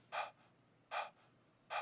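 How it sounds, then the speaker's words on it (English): A person breathing into a microphone as a rhythmic element under a drum loop: three sharp, close, breathy intakes spaced evenly about three-quarters of a second apart, isolated on near silence. "It's literally just me breathing into the mic."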